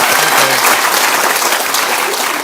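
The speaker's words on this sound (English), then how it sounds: "can I have a big round of applause for Mr. Alastair Banks, our first workshop of the day" Conference audience at a live marketing event clapping for workshop presenter Alastair Banks: loud, dense, continuous applause that holds steady and eases slightly toward the end.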